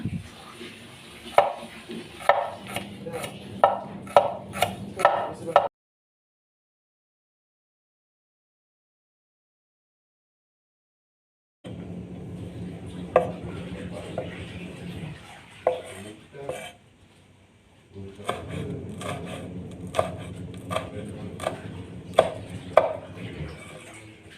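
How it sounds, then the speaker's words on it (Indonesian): Knife chopping shallots on a board in a home kitchen: quick, sharp, irregular taps in bursts, a stretch of silence in the middle, then more rapid chopping, close and clear. "Kita rajang bawang merah."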